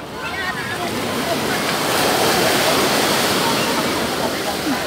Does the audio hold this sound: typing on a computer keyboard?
no